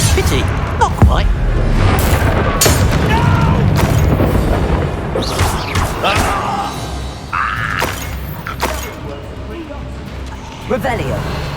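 Bombarda and Confringo spells explode in the Hogwarts Legacy video game, a run of booming blasts and impact thuds with shattering debris, spaced irregularly over constant combat noise, with a voice speaking between hits.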